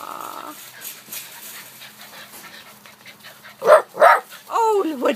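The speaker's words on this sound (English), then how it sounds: "Oh, what are you barking at?" Rescue puppy giving a few sharp, close barks and yips toward the end, after a quiet stretch; a voice talks around the barks.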